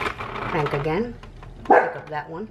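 A dog gives one brief bark that cuts in over a person talking indoors beside a hand-cranked circular knitting machine.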